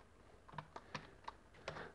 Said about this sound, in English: This is me typing in